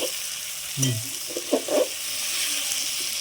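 Crab masala fries in a pan and is stirred and scraped with a spoon, giving a few knocks and scrapes over a steady, soft sizzle close by.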